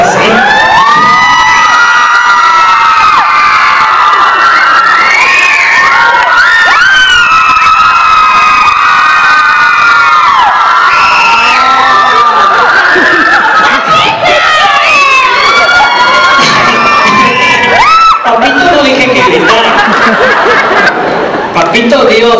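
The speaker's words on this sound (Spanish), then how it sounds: "Ahora las mujeres van a gritar como que estuvieran viendo aquí a Chayanne bailando Fiesta en América" A comedy monologue audience of young people in Zacatecas, women among them, screams and cheers loudly and without a break, with shrieks, laughter and crowd noise filling the whole stretch.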